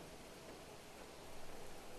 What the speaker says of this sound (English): Wait, is it raining through the building?